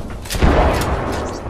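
Frag grenade explosion in the Apex Legends video game, a single short muffled boom lasting about a second at moderate loudness.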